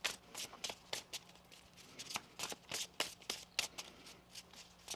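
Tarot cards are shuffled by hand in a series of quick, crisp riffling bursts, close and fairly soft, repeating irregularly with short pauses between.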